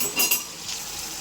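Small chicken pieces sautéing in a pan for pasta, a brief bright sizzle with a couple of quick utensil scrapes and clinks up close, no talking.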